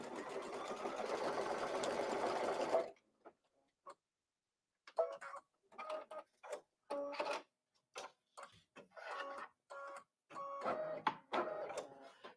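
Computerized embroidery machine stitching a background quilting pattern, a dense mechanical whir that stops, then resumes as bursts of rapid rhythmic needle clatter separated by brief pauses, close and moderately loud.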